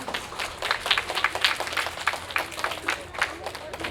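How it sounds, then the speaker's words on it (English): An audience applauding at a school winter concert, a dense, continuous patter of many hands clapping, moderately loud and close, lasting the whole stretch. "let's give Mr. Sean, our custodian, a big round of applause."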